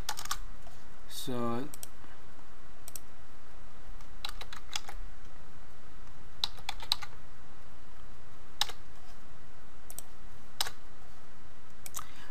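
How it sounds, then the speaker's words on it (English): Scattered keystrokes and clicks on a computer keyboard as numbers are typed into a network IP address field, sparse and irregular over a steady background hiss, with a brief spoken word. "I'm gonna type any number to show you how does works."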